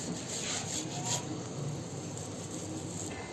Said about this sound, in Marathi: आता ही बटाटा आहे ना असं किसणीवर किसून घ्यायचं.